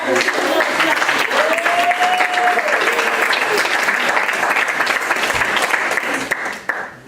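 Sustained, dense audience applause at a poetry reading greets poet Shay Black, loud and steady for several seconds with a brief whistle-like tone early on, tapering off at the end.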